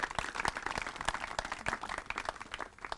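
A small press conference audience on neighborhood revitalization gives a brief round of applause, scattered individual claps rather than a dense roar, fairly close.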